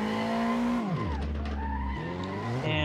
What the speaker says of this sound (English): on this first lap, we're just gonna be doing some pretty chill drifting